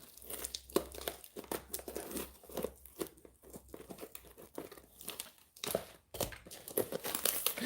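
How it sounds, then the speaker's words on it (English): A cardboard mail box being cut open, giving close scraping, crinkling and tearing sounds in irregular bursts at fairly low volume; no talking. "You gotta cut into your box, Marty"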